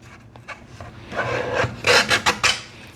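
Scraping and rasping of a blade cutting through quilting fabric along a cutting template, a few soft strokes building into louder rough swipes near the end.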